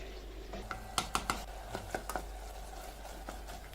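Minced meat for ragù stirred in a frying pan, a few soft scraping and clicking strokes in a cluster near the middle over a faint steady sizzle, close and quiet.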